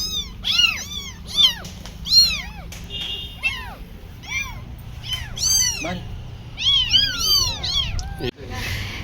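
Hungry kittens mewing before a bottle feed of formula milk, a long run of shrill, closely spaced meows from more than one small cat, loud and near, ending with a soft thump.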